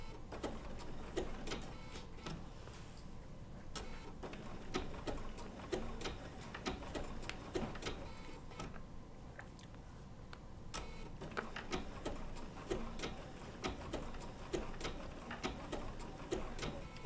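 A Bernina B790 PRO sewing machine stitches slowly through wool appliqué, giving a steady run of soft mechanical ticks and clicks that keeps going at a close, even level with no voices.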